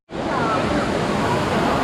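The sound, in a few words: waterfall at Lushan Three-Step Spring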